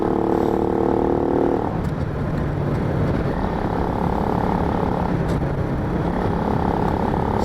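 A Honda C90 motorcycle engine runs close and loud under light throttle, its steady drone faltering and going rough partway through as it stumbles on a flat spot.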